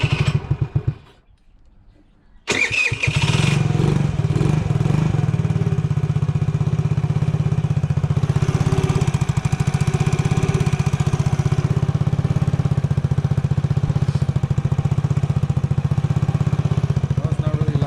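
A small 50cc GY6 scooter engine with emissions parts removed runs steadily and loudly up close on the stock exhaust after a brief silent gap, its droning idle holding a rough, buzzing tone throughout.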